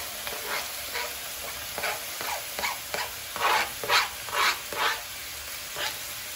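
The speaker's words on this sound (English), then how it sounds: "And in goes my tomatoes." Tomatoes and onions for tawa keema sizzle in a hot pan while being stirred, with repeated scraping strokes and bursts of frying close by, no talking.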